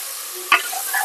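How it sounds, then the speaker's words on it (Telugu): Onions, green chillies and curry leaves fry in hot oil, a soft sizzle with a single brief stir or clink near the middle, short and close. "తర్వాత ఇందులో ఆనియన్స్, పచ్చిమిరపకాయలు, కరివేపాకు వేసేసాను. ఇవి బాగా వేగాలి."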